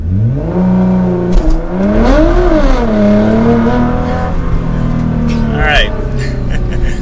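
A 2022 BMW M4 Competition launches under launch control, the engine note climbing loud and close, then dropping and rising again through quick gear shifts, with a brief voice near the end.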